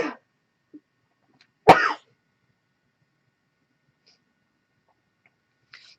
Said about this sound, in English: I gotta sneeze though.